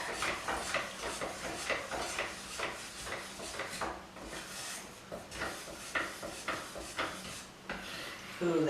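A can of primer paint being stirred for a bathroom makeover, with repeated scraping and swishing strokes at a close, even rhythm.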